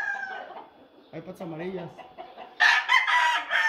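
A rooster clucks and gives a short crow near the listener, alongside some chickens, while someone speaks over part of it; a louder burst of crowing or squawking comes near the end.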